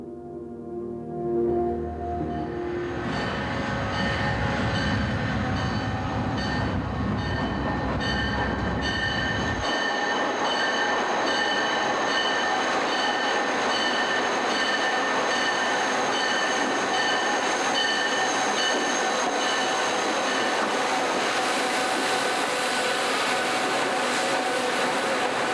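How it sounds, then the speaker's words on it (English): A big Superliner passenger train rolls past close by, a loud, steady broadband rumble and clatter with a faint wheel squeal running throughout, no voices. "this is a really big, monstrous train"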